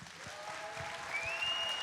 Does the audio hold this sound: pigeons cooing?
no